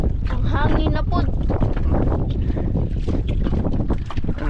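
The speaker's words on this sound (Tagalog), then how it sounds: "Ang hangin na pod." Strong wind roars across the microphone on a small fishing boat at sea, gusting loudly and constantly while people talk over it.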